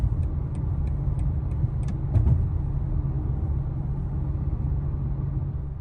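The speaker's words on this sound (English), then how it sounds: "I'm gonna go ahead and plug in a clip of some nighttime driving right now" A 2022 BMW M4 Competition xDrive G82 driving at night, with a steady low road and engine rumble that holds evenly throughout and a few faint ticking clicks above it, no talking.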